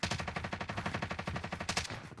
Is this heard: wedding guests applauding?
no